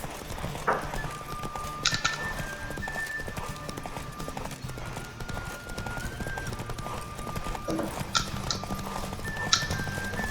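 Horse hooves galloping in a steady, rapid clip-clop rhythm, close and continuous, over a faint tonal background, from the video game The Witcher 3.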